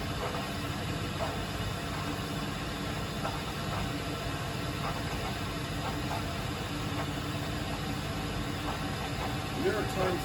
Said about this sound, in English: Is the blower purging?